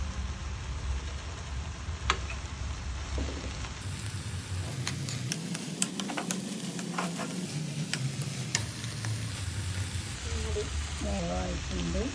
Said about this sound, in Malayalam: നമുക്കൊന്ന് തുറന്ന് നോക്കി ഒന്ന് ഇളക്കി കൊടുക്കാം കേട്ടോ